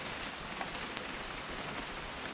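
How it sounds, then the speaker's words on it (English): Steady, soft rainfall pattering on surfaces in the video game What Remains of Edith Finch, a continuous even hiss with occasional brighter drop ticks and no talk. "It's gonna rain the whole weekend, isn't it?"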